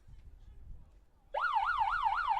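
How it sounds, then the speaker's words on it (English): After a quiet low rumble, a loud electronic wavering tone starts abruptly and warbles up and down steadily until the end, like a siren-style buzzer, ending a period at a college lacrosse game. "As buzzer does sound there as we head to the 4th period now."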